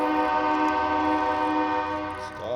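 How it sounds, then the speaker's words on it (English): A train passes near a riverbank at Port Hope during a salmon fishing outing, giving off a loud, sustained horn-like tone that holds steady for the whole stretch and fades slightly at the end. "I think there's a train."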